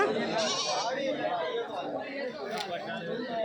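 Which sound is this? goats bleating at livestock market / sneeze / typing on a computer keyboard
goats bleating at livestock market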